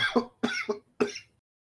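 A person coughs after water went down the wrong pipe, three harsh, close coughs in quick bursts with a short pause between, then silence.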